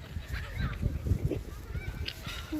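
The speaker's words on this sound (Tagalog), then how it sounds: "Happy birds." Geese or similar fowl honk in short bursts while being fed nearby, a busy close flock with scuffling and brief human vocal sounds mixed in.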